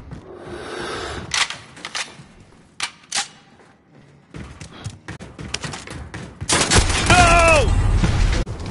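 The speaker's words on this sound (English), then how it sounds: "They're shooting you from up top." Scattered shots and bursts from enemies firing in Call of Duty Warzone, snapping out in uneven clusters between gaps, building into a louder burst near the end while players talk over the action.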